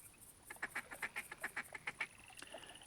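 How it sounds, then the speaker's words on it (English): Mallard short-range duck caller in theHunter Classic, a rapid string of about a dozen nasal quacks in a steady rhythm, loud and close, ending abruptly with a faint tail of ambient game sound. "We have the mallard short-range caller."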